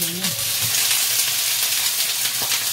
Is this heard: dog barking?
no